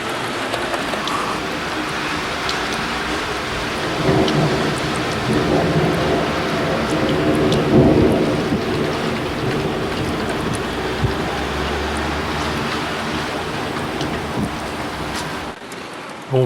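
A moderate thunderstorm with rain and falling snow in Sallanches, a steady wash of rain and wind with deep thunder rumbling and swelling in the distance.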